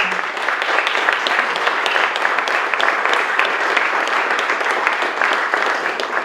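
An audience at an event celebrating Beatrix Farrand gives steady, dense applause to welcome a speaker named Judith, sustained for several seconds at even loudness before cutting off.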